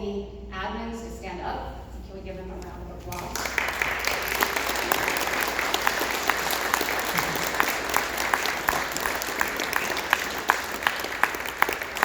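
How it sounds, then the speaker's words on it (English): An indoor audience at a regional stand-up work meeting applauds the admin staff: a voice speaks for about three seconds, then steady clapping fills the rest, sustained and fairly loud. "Can we give them a round of applause?"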